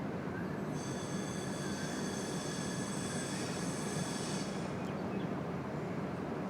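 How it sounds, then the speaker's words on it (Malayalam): A locomotive-hauled train, with Erode shed loco 22543 at its head, passes on the opposite line in Kerala: a steady rolling rumble with high whining wheel squeal, fairly faint, heard from inside a moving train, ending abruptly. "അല്ല, ട്രെയിൻ തന്നെയാണ്."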